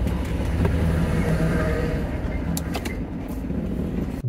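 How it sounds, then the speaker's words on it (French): Steady rumble of trucks and cars going past on a rough, damaged single-lane road in Georgia, loud and continuous with engine drone, brief whooshes of individual vehicles near the end. "Je laisse passer plein de camions,"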